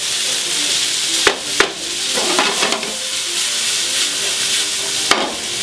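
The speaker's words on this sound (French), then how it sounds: "Dans la foulée, oignons, poireaux, dans la poêle." Onions and leeks sizzle steadily in a frying pan for a lamb ragout, a constant bright hiss with a few light clicks and stirring scrapes, with no voices.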